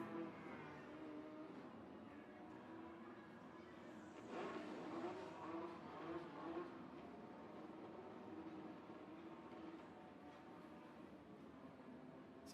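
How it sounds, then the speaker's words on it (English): Race cars at Nashville Fairgrounds Speedway rolling up to the start-finish line, a steady mid-distance engine drone that swells briefly in the middle, with crowd and track ambience under it. "You hear the Chargers making their way up."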